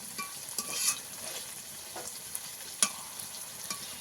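Pangas fish frying with spices in a pan: a soft, steady sizzle with occasional scraping clicks from stirring and turning, faint and close, with no voices.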